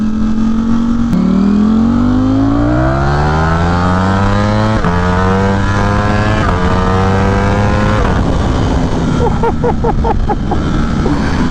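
A Ducati Streetfighter V4 motorcycle accelerating hard with its back tire spinning, a loud close engine climbing in pitch through several gear changes, rasping and crackling at the end.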